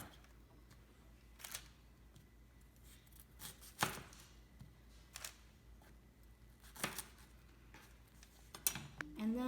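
A knife slices Brussels sprouts on a board for slaw, giving sparse, faint, irregular crisp cuts against a quiet background, with no talking.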